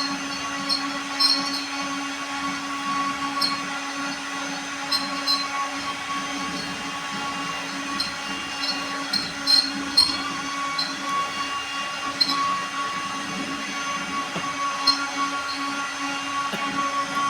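A digital cutting machine runs steadily with a constant mechanical hum and repetitive light clicking and whirring, close and continuous with no talking.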